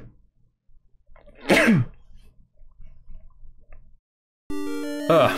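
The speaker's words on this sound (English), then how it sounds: "Well, I've just sneezed." A single loud, close sneeze bursts out after a quiet stretch of faint rustling, followed by bright, tonal electronic game music from a Legend of Zelda adventure.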